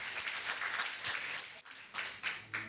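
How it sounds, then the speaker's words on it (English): Applause for a dignitary at a Pan-African conference on girls' and women's education: a soft, distant patter of clapping from a seated audience in a large hall, fairly faint and steady with one sharp knock partway through. "encore des applaudissements pour Her Excellence"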